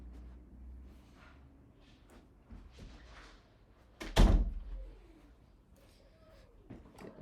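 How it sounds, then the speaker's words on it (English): An office door swings shut with a single loud thunk and brief rattle in a quiet room, standing out clearly against low background hum. "shut my office door."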